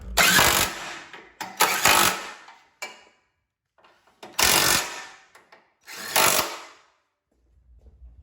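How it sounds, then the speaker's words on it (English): A 15mm socket and ratchet tighten the crash bar bolts on a Fiat 500 Abarth during radiator replacement, giving several close, loud bursts of ratcheting tool noise separated by short pauses. "take your 15mm socket and tighten them down"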